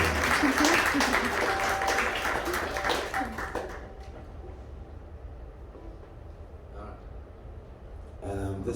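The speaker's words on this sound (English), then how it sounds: "I'd like you to give her a big round of applause." A concert audience gives a big round of applause, dense clapping and cheering for several seconds that fades out, followed by quieter room sound and a brief burst of sound near the end.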